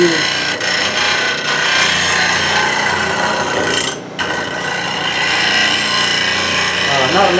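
A lathe tool is ground on a PSI sharpening system, giving a loud, continuous abrasive grinding hiss that runs through the whole stretch, with one brief dip in the middle.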